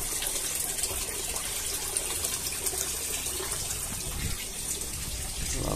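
Water rushing steadily through a pond ultraviolet filter system at a rooftop garden at night, a dense continuous gushing hiss held at one loud level throughout, with no clear talk over it.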